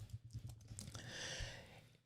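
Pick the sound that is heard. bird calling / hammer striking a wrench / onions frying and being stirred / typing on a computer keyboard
typing on a computer keyboard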